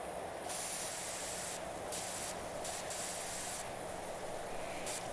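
A pressure washer sprays steadily in PowerWash Simulator 2, a loud continuous hiss with brief surges and dips as the jet starts and stops, heard alone.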